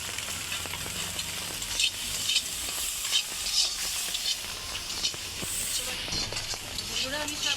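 Green chillies sizzle steadily in a hot frying pan for a Bengali shapla and prawn chochchori, with a spatula stirring and scraping through the crackling oil, close and continuous from start to finish.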